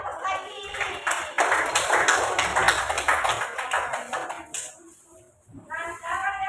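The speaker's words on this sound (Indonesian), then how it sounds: "Pintar, kasih aplaus lagi." A classroom of students claps together in a lively burst that rises quickly, fades out and briefly starts again near the end, with voices mixed in.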